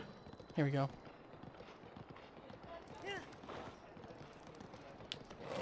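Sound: horse galloping in the video game Breath of the Wild

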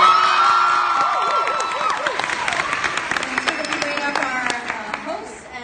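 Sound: audience applause

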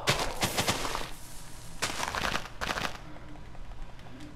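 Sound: TNT exploding in Minecraft video game

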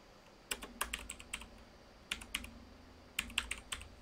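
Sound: typing on a computer keyboard

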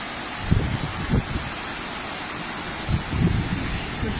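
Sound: floodwater rushing after heavy rain

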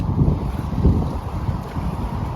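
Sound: sea waves at a beach

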